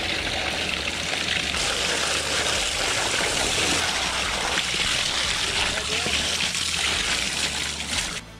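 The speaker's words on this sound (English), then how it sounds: "We literally just came in here, rinse, rinse, rinse, rinse, rinse, pumping the bottom, pumping out the water as we're rinsing all the sediment and everything out" Water rushes and splashes steadily while a koi pond is rinsed of sediment and pumped out from the bottom, a continuous close wash of spray and running water with no pauses.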